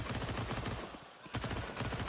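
Rapid automatic rifle fire in a Counter-Strike 2 Major semifinal match, a loud close stream of shots that breaks off for a moment and then resumes in another fast burst.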